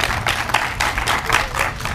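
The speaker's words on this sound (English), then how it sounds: "Please give them a round of applause." An audience applauds at a college technology award and device distribution ceremony in Los Angeles, with a dense, steady clapping that swells in waves for two seconds and has no talk over it.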